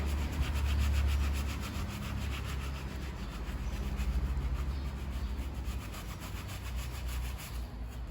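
A sneaker being scrubbed with Dr.Sneaker cleaning solution, a brush rasping back and forth in a steady, close rhythm with continuous loud friction and no talking.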